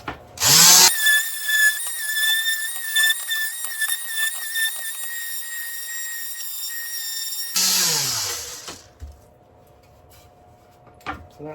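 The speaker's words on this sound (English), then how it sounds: "This needs sanding because it's just a rough offcut." A power sander whines on a rough wood offcut in one continuous run of about seven seconds, starting and spinning down sharply, followed by a quieter hum.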